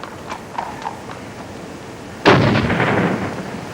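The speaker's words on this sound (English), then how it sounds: "A cannon would be fired to summon the villagers." A single cannon fires to summon villagers to a lifeboat rescue, one sudden loud boom that rolls out and decays slowly, preceded by a few faint hollow knocks.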